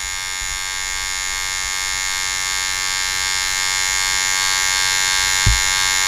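An electric hair trimmer hums close and steady through a taper fade haircut, a constant buzzing drone with one brief bump near the end and no talking.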